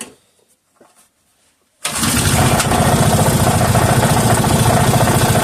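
A 3.5 hp Briggs and Stratton small engine is yanked to life after near silence, then runs loud and steady with a continuous rough drone that carries right through to the end.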